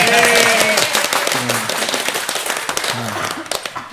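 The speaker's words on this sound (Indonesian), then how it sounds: "Oke, tepuk tangan yang mau jadi Romo ya." Children clap together at a primary school's opening-of-year service, a dense burst that thins into scattered claps, with young voices and an adult voice mixed in.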